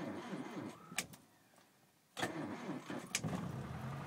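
A Rover 2000TC four-cylinder engine is cranked with the manual choke set: a short starter whir, a pause, then a second crank as the engine catches and runs at a steady idle, heard up close.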